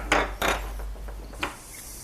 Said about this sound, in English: Just continue carving it down.